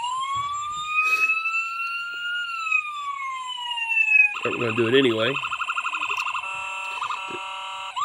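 A Richland County Sheriff Dodge Charger Pursuit siren wails in a slow rising and falling tone, then switches to a rapid warbling yelp, loud and close, with a brief voice over it.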